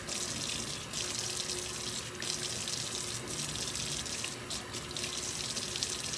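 Hot water runs steadily from a kitchen tap into a sink while hands are washed, a continuous close rushing splash with small shifts as the stream is interrupted.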